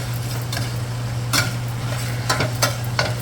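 Beef stir-fried in a hot wok over medium-high heat for beef and broccoli, a steady sizzle with a constant low burner hum beneath, broken by several sharp scraping stirs of the spatula against the pan, close and moderately loud.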